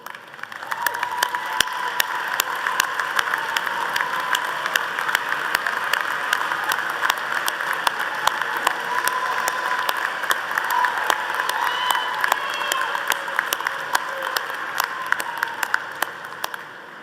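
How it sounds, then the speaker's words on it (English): Sustained round of applause from a large commencement ceremony audience at Missouri Southern, steady dense clapping throughout, a few faint cheers, no talk over it. "can give you a great round of applause"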